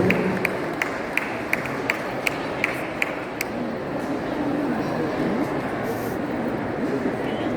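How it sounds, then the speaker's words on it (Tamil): Audience applause fills a conference hall at an international Thirukkural gathering in Toronto, a steady dense wash of clapping with a few sharper claps standing out early on, continuing at moderate distance throughout. "கரகோஷங்களை கொடுத்து உற்சாகப்படுத்துங்கள்"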